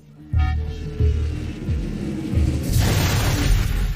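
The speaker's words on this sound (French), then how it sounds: "Une explosion a eu lieu" Explosions in a chaotic cartoon battle scene, a heavy boom followed by further rumbling blasts and a loud, broadband burst that sustains toward the end.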